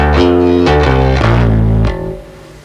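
A slow bass guitar lick, with a run of distinct sustained notes changing about every half second. It plays alone, loud and close, then fades into a quieter decaying tail at the end.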